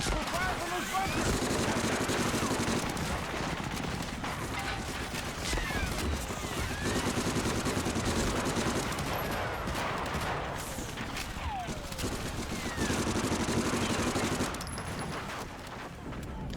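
Sustained bursts of machine-gun fire from bunkers on a World War II battlefield in Medal of Honor: Frontline, rattling continuously under other battle noise with a few louder volleys.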